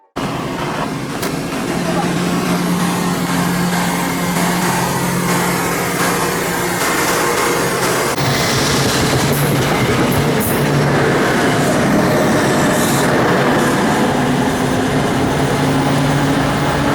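A commuter train in Essex County pulls into Mountain Avenue station with a loud, continuous rumble and clatter of wheels, a low drone running underneath and a brief squeal of braking, with voices heard faintly beneath the noise.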